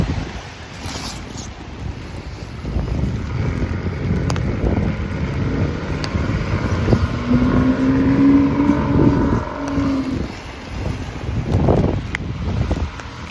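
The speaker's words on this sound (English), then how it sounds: "I feel like that car is just farting at me. It's loud. It's a loud muffler" A car with a loud muffler passes on a hilly road, its engine drone rising and falling over steady wind noise for several seconds before fading.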